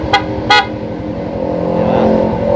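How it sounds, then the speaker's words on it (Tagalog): A motorcycle horn gives two short, sharp toots close by, followed by a steady engine drone. "Tapos busina"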